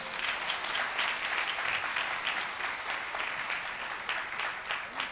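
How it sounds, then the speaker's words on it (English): An audience at a New York State Assembly swearing-in ceremony applauds the Perry family with steady, full clapping that holds at an even level throughout. "So let's give them a round of applause."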